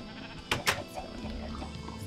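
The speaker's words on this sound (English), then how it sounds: "Stay out of here, sheep." Sheep bleating in Minecraft, two short bleats close together near the start, fairly loud over a quiet background hum.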